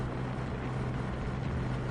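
A 2023 Triumph Rocket 3 GT motorcycle engine idling, a steady low rumbling hum that stays even and continuous, heard close with no voices over it.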